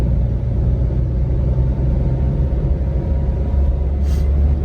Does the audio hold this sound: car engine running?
yes